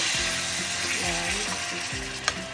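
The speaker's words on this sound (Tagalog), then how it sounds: "Parang ipiprito ko ng konti." Food frying and sizzling in a pan alongside stirring, with a steady hiss throughout, a few scraping strokes, and a brief sharp clink near the end; no talking.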